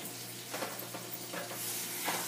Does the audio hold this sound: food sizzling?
yes